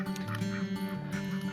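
Farm ducks quack in short, uneven bursts, a few calls overlapping in a quiet outdoor setting, faint and fairly close.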